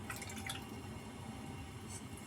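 Water poured from a container into a pot of sugar while making homemade sugar wax, a soft continuous trickle and splash heard close up at low level, with no talking.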